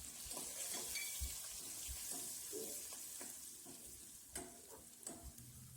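Spices sizzling in hot oil while whole masoor dal is sautéed in a home kitchen, a steady close crackle with scattered stirring clicks and scrapes throughout, no talking.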